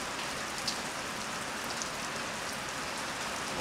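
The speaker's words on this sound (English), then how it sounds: "I love it when it rains. Pretty hard rain." Heavy rain falls in a dense, steady hiss of countless drops, an even wash of sound with no voices.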